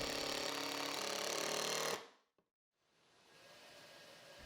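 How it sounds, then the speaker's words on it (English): A bandsaw slices a smooth curve through a glued-up wooden form, a loud steady whine for about two seconds before cutting off abruptly, followed by near silence and a faint low hum as the machine runs down. "To cut the curve for the form, I went to the bandsaw and I just followed along the line in one smooth cut"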